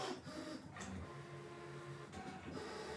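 A Brother ScanNCut machine cuts bare fabric on a fabric mat with its fabric blade, giving a steady mechanical whir with motor shifts and carriage movements, close and continuous.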